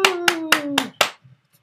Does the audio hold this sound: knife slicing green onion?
no